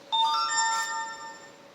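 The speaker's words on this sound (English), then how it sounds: "Oh, and there's another notification." Phone notification chime: a single bright, clean electronic tone with a short rising two-note ring that rings out and fades over about a second, close and alone with no talk.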